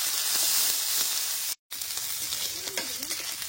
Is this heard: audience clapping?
no